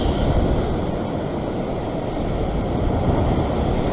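Sea waves wash and churn continuously against a rocky shoreline fishing spot, a loud, dense, steady roar with wind noise.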